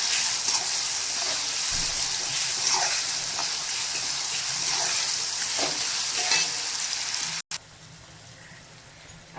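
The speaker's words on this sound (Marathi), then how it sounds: "आता थोडासा टमाटर आपला मऊ होऊ दे, मग आपण याच्यात मसाले टाकून घेऊया।" Onion and tomato fry in oil in a pan for a Sankranti bhogi vegetable dish, giving a dense, continuous close sizzle with occasional stirring clicks before it drops to a quieter hiss near the end, with no talking.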